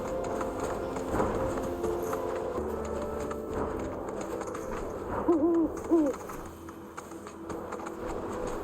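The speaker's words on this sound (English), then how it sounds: "Wait, what are you? You sound like an owl." An owl-like creature in Final Fantasy 7 Rebirth gives a couple of short wavering hoots partway through, set over a busy game ambience with clip-clopping hooves and background music.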